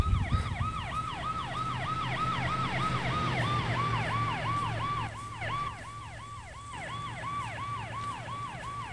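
An ambulance siren coming up behind a vehicle convoy on an Afghanistan road patrol in the game Arma 3: rapid, repeating wailing sweeps sound clearly over a low engine rumble, steady throughout, with no talking.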